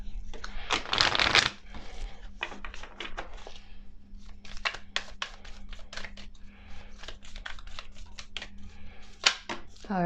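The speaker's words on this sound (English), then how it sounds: "we're going to pull one last card here from the Light Oracle to close out your reading" Tarot cards from the Light Oracle deck shuffled close by, a dense riffling burst early on followed by repeated crisp card snaps and slides throughout, with a steady low hum underneath.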